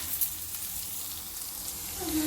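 Semiya vermicelli fries in a pan with a steady, soft sizzle that continues throughout at low volume.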